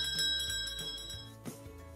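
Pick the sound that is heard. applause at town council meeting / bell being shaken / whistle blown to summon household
bell being shaken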